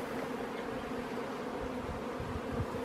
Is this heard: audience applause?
no